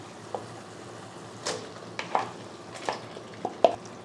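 Chicken goes into tomato frying in oil and is stirred, a low, even sizzle broken by a few sharp spoon scrapes and clacks against the pan, heard close and alone without speech.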